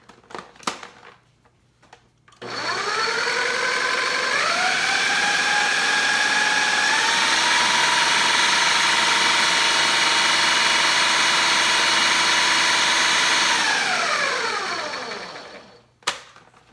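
A food processor blends a no-bake treat mixture: a click, then the motor whirs up to a loud, steady whine for about eleven seconds before winding down, followed by another click.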